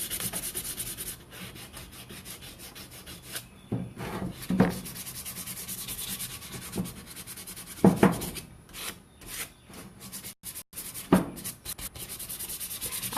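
A cup being dry sanded by hand, with steady rough rubbing and scraping strokes, close and fairly loud, broken by a few louder knocks and short pauses.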